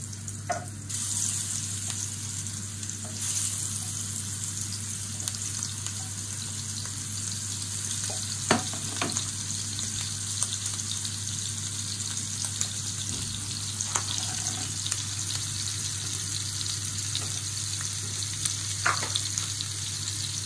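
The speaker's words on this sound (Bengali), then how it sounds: "তেলটা একটু গরম হোক। এখন আমি দিয়ে দিচ্ছি মাছগুলা।" Prawns frying in hot oil, a continuous crackling sizzle close by with occasional pops and stirring clicks over a steady low hum, no voices.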